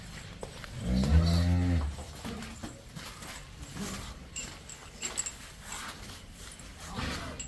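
A single loud, deep cow moo near the start, close by at a dairy farm, then quiet farmyard background with faint scattered noises.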